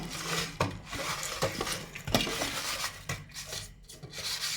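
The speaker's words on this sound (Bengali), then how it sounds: "পরিমাণ মতো নুন দিয়ে নিচ্ছি সুন্দর করে মাখিয়ে নেব" Salt and turmeric being rubbed by hand into pieces of bhola fish, giving soft wet rubbing and squishing with a few sharper clicks against a bowl, close and steady, with no talk.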